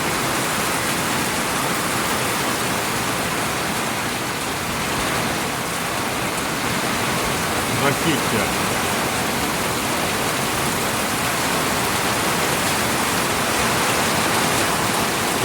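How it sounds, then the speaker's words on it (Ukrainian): Heavy rain with large, dense drops pours down during a thunderstorm in Rivne, a loud, steady hiss with no break, and one word is spoken briefly. "І тут дощ такий, не мілкий, а дощ, краплі дуже великі і густі. Просто заливає."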